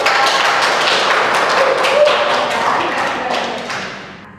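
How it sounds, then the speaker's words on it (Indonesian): Children in a classroom applaud together in a steady burst of dense clapping that fades slightly toward the end. "Kasih tepuk tangan untuk Allah."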